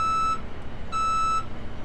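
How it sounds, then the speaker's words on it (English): A truck backing up sounds its reversing alarm: two even electronic beeps with a short gap between them, loud and steady over a low rumbling background. "Here's a truck backing up."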